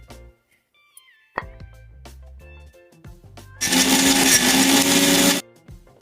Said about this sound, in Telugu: ఇది మిక్సీ చేసేద్దాం